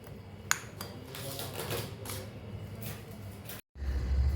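Kadyachi chutney being stirred with red chili powder and salt in a bowl, giving a brief clink of a spoon on the dish and soft scraping over steady kitchen background noise.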